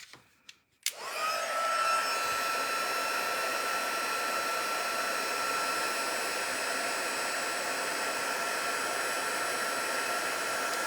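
A heat tool blows loudly and steadily after a click, melting gold embossing powder, its even airy whoosh with a high whine running unbroken and close for several seconds.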